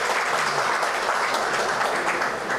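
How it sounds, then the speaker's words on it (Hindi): A hall audience at a Human Rights World Environment Day event in Mumbai gives the chief guest a loud, sustained round of clapping, dense and even for the whole stretch with no voices on top. "तो मैं चाहूंगा एक बार मेरे चीफ गेस्ट के दोबारा तालियों के साथ अभिनंदन करें।"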